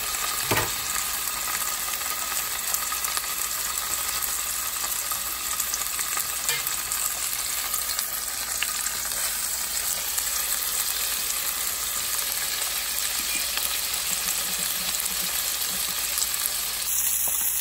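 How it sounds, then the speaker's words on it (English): Coffee-cured filet mignon searing in foaming butter in a hot pan, a loud continuous crackling sizzle that holds steady throughout with a sharp hiss burst at the start. "So as soon as the butter foams and starts to subside, we are going to add the steak."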